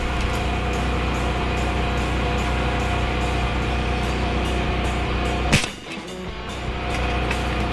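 A single sharp crack from a .50 Seneca Dragon Claw 500cc big-bore PCP air rifle cuts through a constant, loud background hiss on an outdoor range.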